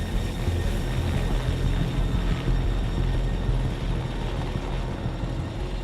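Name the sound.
helicopter climbing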